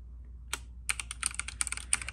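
Quiet keystrokes on a Logitech G513 mechanical keyboard with GX Brown switches, a short burst of soft, irregular clicks and taps close up after a brief pause, with no voices.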